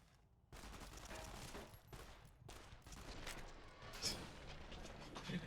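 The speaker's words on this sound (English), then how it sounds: "They're shooting me through the holes in a wall." Enemies in a video game fire guns through holes in a wall, a quiet, continuous spray of rapid shots and bursts with short gaps in between, and no voices over it.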